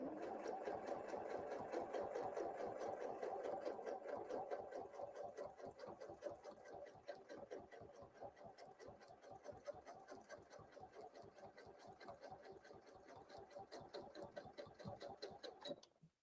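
A sewing machine stitches a quilt guided by a ruler, its needle clattering in a fast, steady, close rhythm that runs on continuously and alone before stopping abruptly.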